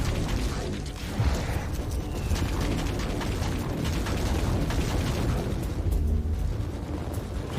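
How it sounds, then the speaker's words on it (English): A loud, sustained explosion in Warhammer 40,000: Inquisitor, with dense rumbling booms and bursts filling the clip without pause, heavy low end rolling throughout. "And explode."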